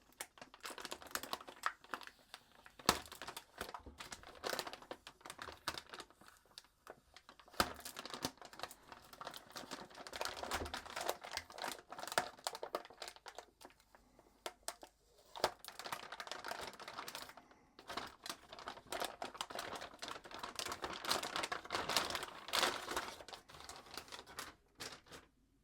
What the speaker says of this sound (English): Anti-static bag, and this one is sealed with Gigabyte branded tape. Let's open it up.